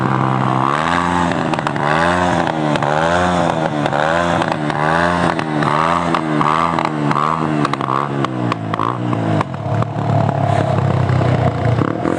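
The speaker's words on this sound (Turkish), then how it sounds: "İşin ortasında motorla piyasa yapıyor." A motorcycle rides around at close range with a loud engine that rises and falls in repeated rev swells, then settles into a steadier rough roar near the end, with no talk.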